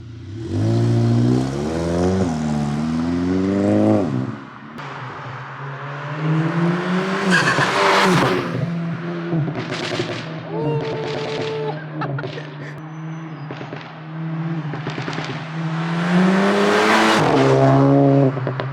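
Stage 2 EQT-tuned VW Mk7 GTI revving hard, engine notes rising and falling with sharp exhaust pops and bangs, loud and fairly close, with people's voices briefly heard between runs.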